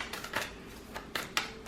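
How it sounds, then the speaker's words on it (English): A deck of tarot cards is shuffled by hand, giving a few quick, quiet papery snaps and flutters in an irregular rhythm, close by with no talking. "Something I need to work on is getting better at shuffling."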